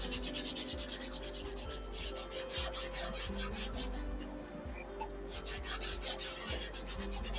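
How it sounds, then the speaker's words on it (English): Wax being rubbed onto wood in steady back-and-forth strokes, a close, continuous scratchy rubbing rhythm with no talk. "I'm going to go ahead and sand or wax down here just because the wax is darkening up that wood underneath"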